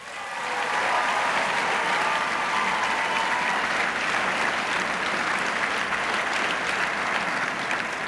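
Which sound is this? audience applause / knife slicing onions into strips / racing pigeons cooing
audience applause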